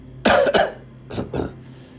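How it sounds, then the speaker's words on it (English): Four short, sharp coughs in two quick pairs, close by, with brief quiet gaps between them. "Excuse me, I got a cough."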